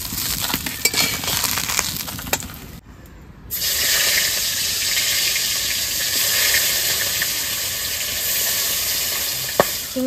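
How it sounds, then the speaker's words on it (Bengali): Singi fish frying in hot oil in a wok, a loud continuous sizzle and crackle with a brief lull near the start before the hissing swells back strongly and holds steady. "এবার শিঙি মাছগুলো ভেজে নেব।"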